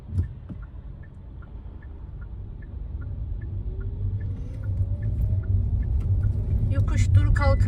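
A car on a driving test route in the Bahçelievler exam area gives a steady, close low engine rumble that slowly grows louder, with faint regular ticking over it.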